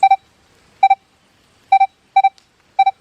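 Metal detector (Manticore or Deus 2, all-terrain low conductor program) giving short double beeps over modern trash, five paired tones spaced roughly evenly, clear and alone with no talk.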